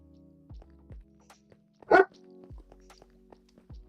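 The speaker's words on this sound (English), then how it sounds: "why are you barking?" A pet dog named Captain lets out one sharp bark near the middle, among soft, regular thudding footsteps close by.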